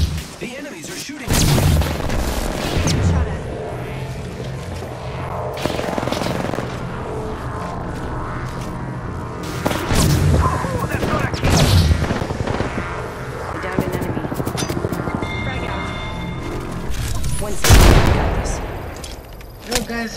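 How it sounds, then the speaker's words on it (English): Enemy gunfire in Apex Legends, a dense stretch of booming shots and rapid bursts with repeated loud impacts throughout, under faint voices and game sounds. "The enemies are shooting."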